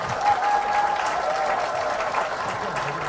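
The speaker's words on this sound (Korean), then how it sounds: "귀한 말씀 해주신 이재명 당대표님께 다시 한번 감사의 박수 부탁드리겠습니다." Audience applause at a Jeju town-hall style political event with a party leader, with steady crowd clapping throughout, a faint tone and murmuring voices mixed in underneath.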